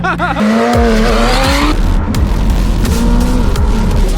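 A McLaren 720S's tyres squeal hard as its back end slides out, a loud engine note rising and shifting over sustained screeching that runs for several seconds at close range.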